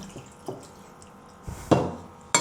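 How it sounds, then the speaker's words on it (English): A few small watery splashes and drips, with a clearer splash near the end as green beans drop into cold water; quiet, close, no talking. "now I remove it and then put it into some cold water to stop cooking"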